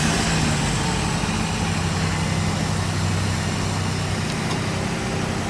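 A 2010 Jeep Grand Cherokee Laredo idling steadily after a remote start, a low, even engine hum with a faint broadband hiss throughout and no voices.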